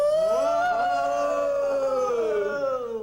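A person imitates an animal growl with a long, drawn-out, tonal howling voice that is loud and close, wavering slightly in pitch for about three seconds.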